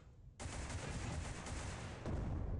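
Dense, continuous rapid gunfire from the online shooter War After on Android, loud and sustained, starting abruptly after a brief quiet moment and intensifying near the end.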